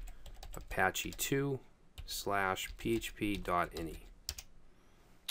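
Rapid clicking of a computer keyboard while a Linux terminal command is entered, crisp keystrokes in quick bursts, close and clear, running beneath a man's steady spoken explanation.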